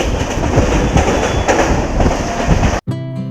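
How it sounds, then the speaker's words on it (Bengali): A passenger train out of Sealdah is heard from inside the carriage as it runs near Dakshineswar station. Loud continuous rumble mixes with faint wheel clatter before an abrupt cut into a short tonal hum. "আমাদের ট্রেন ছেড়ে দিয়েছে"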